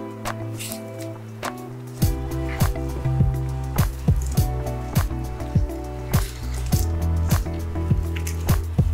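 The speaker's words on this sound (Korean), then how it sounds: "여기에 박력분 2스푼을 넣고 뭉치지 않게 섞어줍니다." Thick chocolate ice cream batter is stirred with cake flour in a bowl, giving rhythmic wet squishing and sticky slaps repeating steadily at close range.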